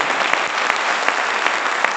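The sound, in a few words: audience clapping with excitement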